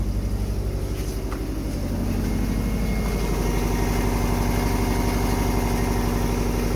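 A car engine idles loudly and steadily close by with a fast even chug, accessory belts whirring along beneath it, no voices over it.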